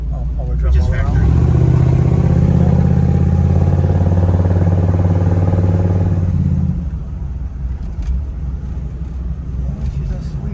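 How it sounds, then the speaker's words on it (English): A 1962 Buick Electra 225 two-door hardtop with a 401 Nailhead V8 idles loud and close with a deep, steady rumble for several seconds, then drops away to quieter background noise. "401 Nailhead, I've been told it's got a lot of torque."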